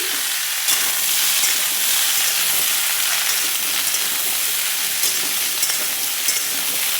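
Spices sizzle in hot oil for a bottle-gourd vegetable dish, making a dense, continuous hiss that stays loud and even throughout with occasional small crackles. No one speaks.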